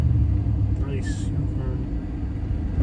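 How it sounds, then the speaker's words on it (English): A deep, steady low-end exhaust rumble from a passing car on a New Orleans street at night, loud and continuous, with a brief higher whoosh of traffic mixed in. "I love how that exhaust sounds. It's kind of deep."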